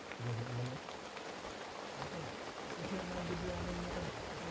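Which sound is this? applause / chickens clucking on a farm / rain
rain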